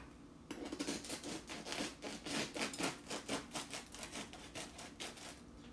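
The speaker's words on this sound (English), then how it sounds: "It's hard to cut bread in the air." Bread being sawn with a knife, a quiet, rhythmic rasping of repeated strokes that goes on steadily for several seconds after a brief pause.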